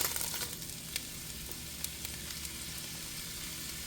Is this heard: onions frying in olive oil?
yes